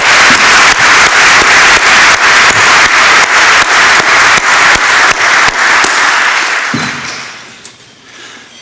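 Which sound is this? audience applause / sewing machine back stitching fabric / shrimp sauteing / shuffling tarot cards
audience applause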